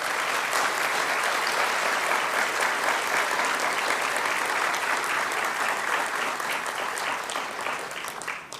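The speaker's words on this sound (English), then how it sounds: "Ladies and gentlemen, a round of applause for our graduates." A large audience at the Trent University Durham convocation ceremony gives graduates sustained, dense applause that holds steady, then eases slightly near the end.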